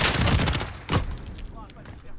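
An M13 assault rifle fires in Call of Duty Modern Warfare, a rapid burst of gunfire followed by another short volley, loud and close, with someone talking over the shots.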